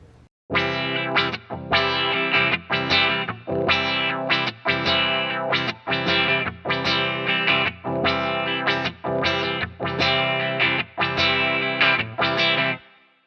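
A distorted electric guitar played through an auto wah pedal on its default setting plays a steady chugging rhythm of repeated strummed chords, each with a sweeping, vowel-like filtered tone, loud and uninterrupted.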